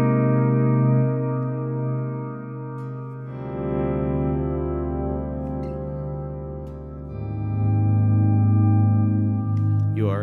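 Clean electric guitar chords played as volume swells through an Axe FX with heavy reverb and delay feedback, sustained notes fading in and blooming into long, spacious washes, with a brief voice near the end.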